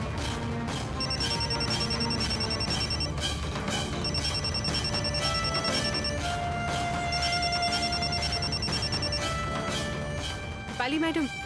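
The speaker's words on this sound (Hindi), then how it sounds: "आवाज अगर नेत्रा के फोन की होगी तो अब भी पता चल जाएगा" A mobile phone ringtone plays loudly in a repeating electronic melody, its bright tonal phrases cycling several times over a dense, continuous background of dramatic music.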